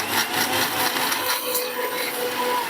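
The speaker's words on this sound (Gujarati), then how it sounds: "આપણે એને મિક્સીમાં પીસી લઈશું" Mixer grinder blending chopped jaggery for a sweet chutney, a steady high whirring drone that holds evenly throughout, close and fairly loud.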